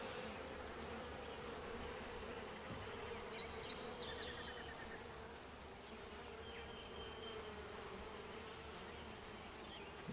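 Honeybees buzz inside an open beehive around a frame of drawn-out comb, a soft, steady, close-up drone lasting throughout with slight swells, no voices.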